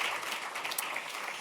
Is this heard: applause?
yes